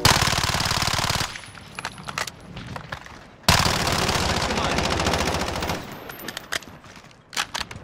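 Automatic weapon fire in the video game Call of Duty: Modern Warfare comes as two long, loud, rapid bursts with brief gaps and scattered single shots between them.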